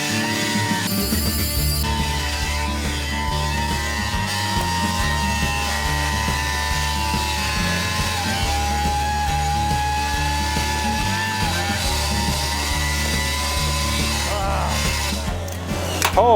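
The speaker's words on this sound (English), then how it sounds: "It's like the starter got stuck." Starter stuck engaged on an old abandoned scrapyard Chevy squarebody truck, a loud, continuous grinding whine with steady low pulsing that runs unbroken for about sixteen seconds, close up and alone.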